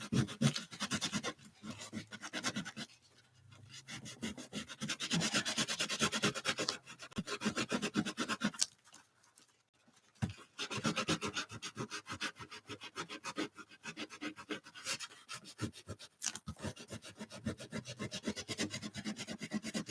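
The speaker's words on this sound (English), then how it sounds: "Maybe I'm just not rubbing it enough." Paint being rubbed by hand across an art journal page, a close, dry scraping and brushing friction in repeated strokes with two brief pauses, steady and moderately loud with no talking.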